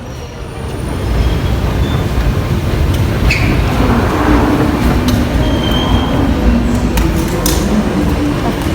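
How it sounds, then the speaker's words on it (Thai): A London Underground train rumbles steadily at close range, with wheel screeches and metallic squeals rising over the continuous roar of the carriage. "เราก็จะขึ้นรถไฟใต้ดินกัน"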